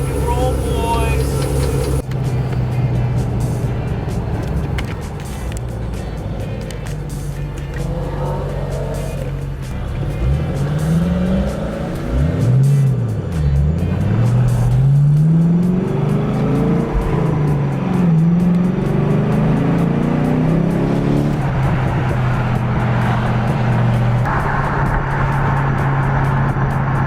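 A Chevrolet Camaro V8 drives along, its engine note rising and falling through shifts with deep droning throughout, while people talk in the background.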